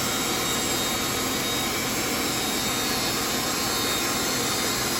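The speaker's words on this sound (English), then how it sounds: "He's whizzing through them at the sawmill today." A sawmill cuts through logs with a loud, constant roaring whine of blade and engine, dense and unbroken from start to finish, close by and with no talking over it.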